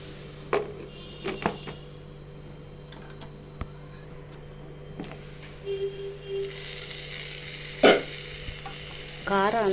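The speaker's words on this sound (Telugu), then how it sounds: "చక్కగా ఇలా ఫ్రై చేసేయండి." Beetroot fries in a pan while being stirred, giving a quiet, steady sizzle broken by scattered clicks and scrapes of a utensil against the pan. No one talks.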